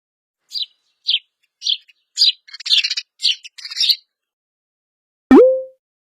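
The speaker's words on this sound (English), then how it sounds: "Sparrow." A sparrow gives a series of short, bright chirps, spaced at first and then quicker, clear and close, followed by a single separate swooping cartoon-style sound.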